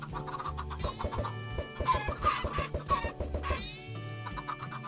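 Chickens in Minecraft cluck repeatedly in quick, choppy bursts, several birds overlapping, fairly loud and close with no talking.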